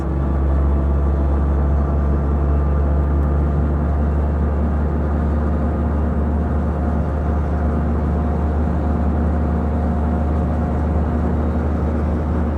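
Jay Leno's tank car running with a heavy, constant low engine rumble, loud and close from start to finish, with no clear rise in revs and no voices.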